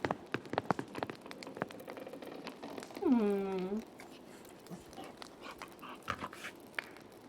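A dog in the medieval video game Pentiment gives a brief, rising whimper as it is petted, set against light pattering rain and soft clicks.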